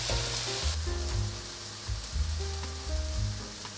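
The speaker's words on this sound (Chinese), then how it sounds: "这样子先让它煎一下" Pumpkin pieces fry in a pan with soy sauce and a splash of water, giving a steady, loud sizzle that continues throughout over a soft melodic background.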